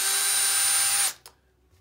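A power drill bores pilot holes into wood for a picnic table, a loud steady whine running for about a second before stopping abruptly, followed by a brief clatter and quiet.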